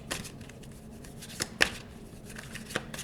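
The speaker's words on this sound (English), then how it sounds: "let me give the deck a quick shuffle" Quiet riffling of a tarot deck, with a few sharper snaps and taps as the deck is shuffled; no talking.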